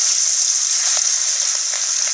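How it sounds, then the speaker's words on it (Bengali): Gulsha fish sizzle loudly in hot oil in a wok, a steady, close, hissing fry with a few soft pops and stirs and no talking. "তেল গরম হয়ে গেছে। এখন এক এক করে সবগুলো মাছ দিয়ে দিলাম।"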